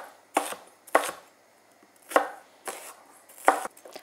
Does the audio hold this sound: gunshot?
no